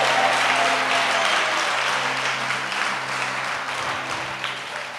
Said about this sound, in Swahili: Pigia Bwana Yesu makofi amani.